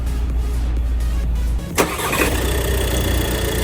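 A van engine cranks with a sharp click and catches, then settles into a steady idle close by.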